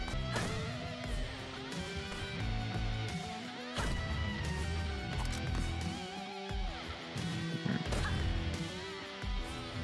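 A dense burst of crashing impacts and booms from the video game BPM plays over driving in-game music, with repeated loud smashes throughout.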